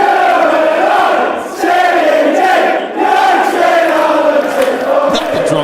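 A loud soccer crowd cheering and chanting continuously, a dense roar of many voices with brief dips before swelling again.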